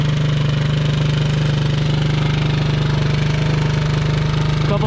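A Kawasaki Mojave 250 sport quad engine runs steadily and loud throughout, a close, continuous rhythmic buzz with knocking pulses and no talk.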